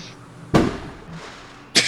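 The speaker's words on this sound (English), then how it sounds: "Those were fireworks for Bullet." Fireworks go off as two sharp, booming bangs about a second apart, loud and close, with a soft rumbling tail after the first.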